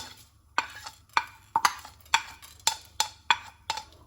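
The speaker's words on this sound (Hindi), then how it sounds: "कलौंजी को छोड़कर सारे साबुत मसाले हमने भून लेने हैं, अच्छे से भून लेना है इसे हमने" Whole spices dry-roasting on a griddle for Punjabi pickle, a series of sharp, regular scraping strokes from stirring, about eight in quick succession, close and fairly quiet over a faint low hum.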